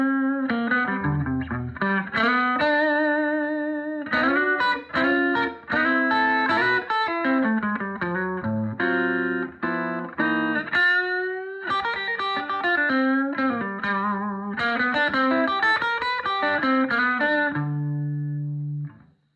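Electric guitar on the neck pickup played through a Super Twin amplifier converted to Vibroverb, treble up, with a warm, slightly distorted tone, strummed chords and short melodic runs ringing out alone.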